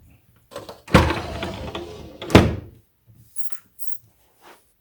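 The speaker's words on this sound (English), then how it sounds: "Be sure to close your cover for the keys." The key cover of an Artesia AG30 digital baby grand piano being closed: a soft slide, then a loud wooden thump, a second heavy clunk about a second later, and a few faint light knocks afterward.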